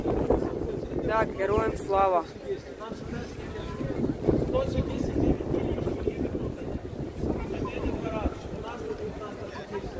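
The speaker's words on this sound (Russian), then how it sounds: "ветер просто жестоко дует" Strong gusty wind roars steadily across the microphone in central Krakow's old town, a constant rough rumble under someone speaking Russian in the foreground.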